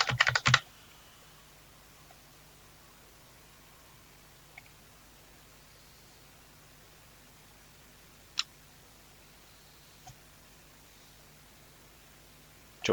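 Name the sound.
typing a password on a computer keyboard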